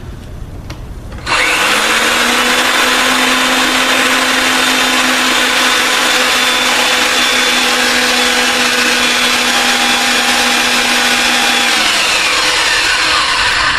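A RIDGID pipe threading machine cuts threads on a pipe, starting after a brief quiet moment and then grinding loudly and steadily, up close, with a constant motor hum.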